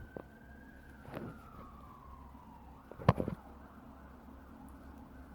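A faint siren wails in the distance, its tone slowly falling, with a couple of sharp knocks and thuds nearby.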